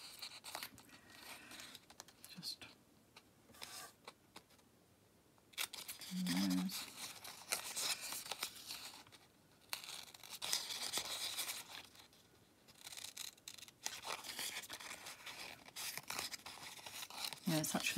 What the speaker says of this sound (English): Right, I'll have to go with scissors this time.